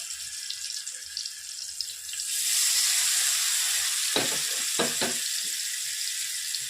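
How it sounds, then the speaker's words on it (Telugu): Fish frying in hot oil over a low flame, a steady broadband sizzle that swells louder after a couple of seconds, with a few sharper crackles and pops near the end. "కొంచెం స్లో ఫ్లేమ్లో దాన్ని మంచిగా ఫ్రై చేసుకోవాలన్నమాట"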